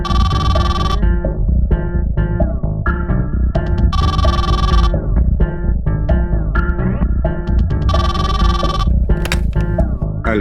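Telephone ringing loudly and continuously, a repeating electronic ringtone melody with bright sustained tones in a steady pattern.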